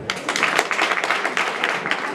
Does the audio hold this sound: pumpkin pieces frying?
no